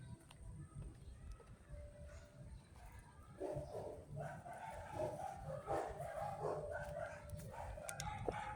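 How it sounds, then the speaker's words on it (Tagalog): Dogs bark behind a neighbouring fence at an outdoor spot in Bulacan, a faint, distant series of repeated barks over steady ambient noise. "Matahol na yung mga aso rito sa kabilang bakod."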